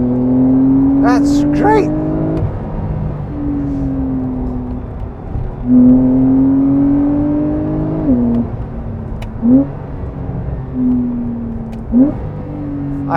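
A 2020 Porsche 911 Carrera 4 (992) flat-six pulls hard on a wet road, heard from inside the cabin, droning steadily then revving through several gear changes and throttle blips, with someone talking over it.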